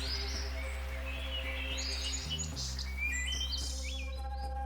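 Finches in Australia give soft, high, fast chirps and trills that flutter on and off over a steady low background hum, moderately distant and fairly faint.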